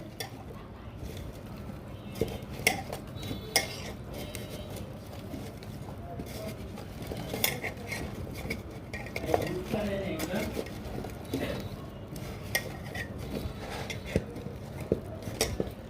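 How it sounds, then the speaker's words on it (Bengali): Mango pickle being mixed by hand with mustard, dried chili, garlic and salt: irregular wet squishing and stirring with occasional clinks of a bowl, continuing throughout. "এখানে সরিষা, শুকনো মরিচ, রসুন আর লবণ দিয়ে আমি মেখে"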